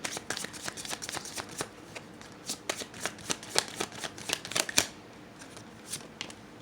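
A deck of tarot cards is shuffled up close, giving a quick run of crisp riffling snaps and flutters that stops briefly before a few more soft card sounds, with no talk.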